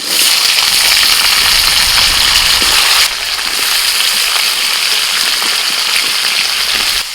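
Green chilli, vegetable stalks and potato pieces frying in oil in a pan over a lit stove, making a loud, dense, continuous sizzle. It eases slightly partway through and then carries on steadily.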